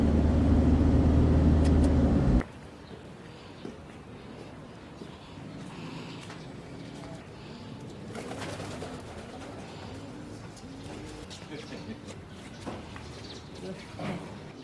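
Soft coos of racing pigeons at a loft repeat in a relaxed rhythm over faint outdoor ambience, following a short burst of loud low rumble at the start.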